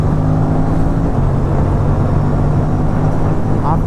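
Aprilia RS 457 motorcycle with an aftermarket exhaust and new air filter, ridden on the road toward Hyderabad, a loud steady engine drone with wind rush, a voice talking over it.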